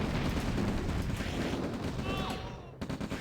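Dense, rapid gunfire and explosions fill a Red Alert real-time strategy battle, a loud continuous clatter that breaks off abruptly near the end before a few scattered shots.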